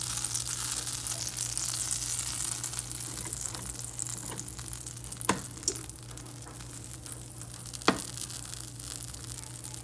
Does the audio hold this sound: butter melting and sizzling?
yes